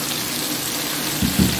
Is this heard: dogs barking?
no